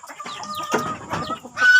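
A rooster clucks nearby in a short series of throaty calls, close and fairly loud, with no talking.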